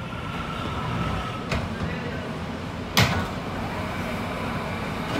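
A New York City subway R179 C train runs Brooklyn-bound on the F line. From inside the car there is a constant heavy rumble, broken by two sharp metallic clicks.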